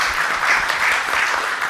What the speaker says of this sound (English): just one round of applause for our speakers,